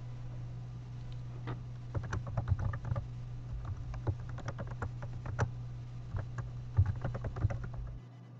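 Login details typed on a computer keyboard, a run of close, crisp key clicks in irregular bursts over a low steady hum, with a few heavier taps near the end and no talking.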